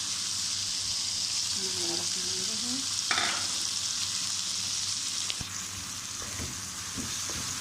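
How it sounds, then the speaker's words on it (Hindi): Green chillies fry with meat in a hot pan, giving a steady hiss and crackle throughout, with a few brief clatters from stirring and a faint tonal sound in the background. "अब इसमें हम हरी मिर्च डालेंगे।"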